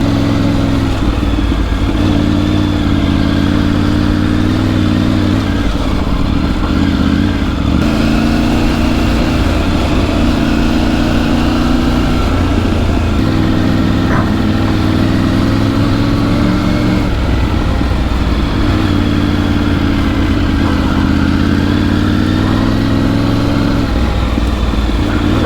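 A Triumph Tiger 900 Rally motorcycle rides across Thar Desert sand and gravel at steady throttle: its engine drones continuously and loudly at close range, with gentle swells in pitch and a constant rattling undertone.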